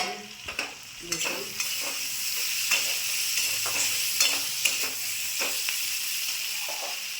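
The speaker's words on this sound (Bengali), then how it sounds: "চাপা দিয়ে আস্তে আস্তে ভাজবো" Green chilies frying slowly in a covered pan for a spice-free spinach curry give a steady close sizzle, with a run of regular stirring scrapes and taps through it and no talking.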